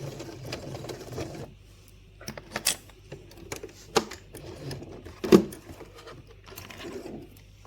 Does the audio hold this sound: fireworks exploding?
no